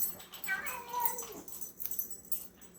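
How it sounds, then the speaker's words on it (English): A house cat yowls and meows in an agitated, drawn-out way, its wavering cries rising and falling at a moderate distance amid faint room noise. "I have no idea what the cat's going crazy over there for."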